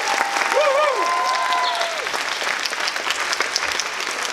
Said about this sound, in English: a great applause for our volunteers